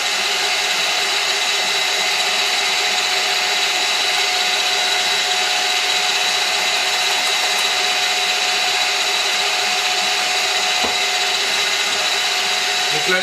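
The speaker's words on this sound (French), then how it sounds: "Donc là, les blancs sont quasiment finis de monter." Electric mixer whisking egg whites for homemade chocolate mousse, a steady loud whirring drone that holds without pause.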